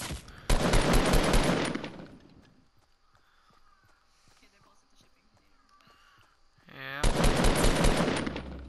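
Fortnite video game gunfire: two long, dense bursts of rapid automatic shots, loud and close, separated by a quieter stretch of faint background game noise.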